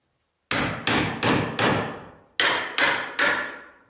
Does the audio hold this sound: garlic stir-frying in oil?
no